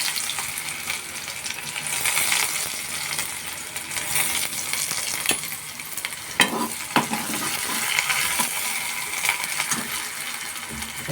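Onion frying in oil with reddened garlic for a spicy dal, a loud close sizzle and crackle mixed with metallic clinks and scrapes of stirring in the pan, no one talking.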